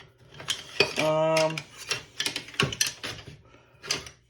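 A utensil clinks and scrapes against a bowl while flour for pizza dough is mixed, giving irregular clattering taps up close, with a short voiced sound partway through.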